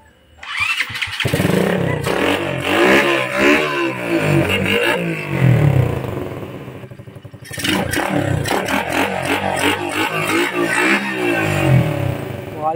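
A motorcycle engine with a freshly swapped carburetor catches after a brief crank and revs loudly and unevenly up close, settles, then revs again with rough, throaty bursts.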